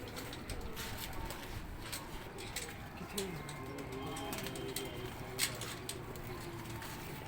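Pigeons on a rooftop in Rawalpindi, with soft cooing and calls heard steadily throughout over a busy background of voices and low noise.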